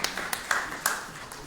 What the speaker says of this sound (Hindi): इनके लिए भी जोरदार ताली से स्वागत करेंगे